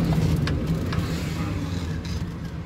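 A Suzuki Mehran's small engine labours up a steep grade on the Margalla Hills road near Islamabad, a low steady hum at close range with faint cabin rustles.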